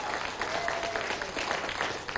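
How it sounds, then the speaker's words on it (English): A short burst of steady applause from a group of people clapping together, moderately loud and continuous for a couple of seconds. "A big round of applause for these teams."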